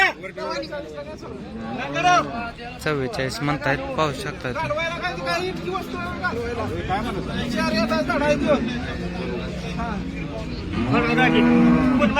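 Cows moo in long, deep, rising calls again and again at a busy cattle market in Baramati, amid a crowd's babble and someone speaking close by.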